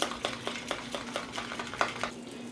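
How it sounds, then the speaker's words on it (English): Hair toner being mixed with a brush in a bowl: a steady run of quick, light scraping taps, about ten strokes in a brisk rhythm, close by and alone. "and really mix this toner"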